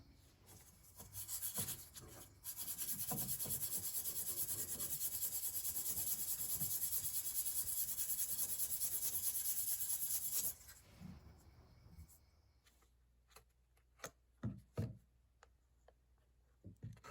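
Fine-grit wet sanding of a koa wood guitar truss rod cover, a steady rasping rub running continuously for several seconds, then giving way to sparse, quieter scuffs and taps.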